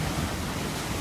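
Steady broadband wash of ocean surf rolling in from the sea on an Australian coastline, with constant wind buffeting the microphone and no distinct breaks, close and loud throughout.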